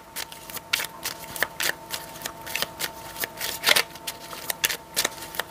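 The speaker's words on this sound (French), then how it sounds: "je vais recouvrir chaque carte." Oracle cards are laid down one over another, producing a quick run of crisp paper slaps and flicks in an uneven rhythm, close and fairly quiet.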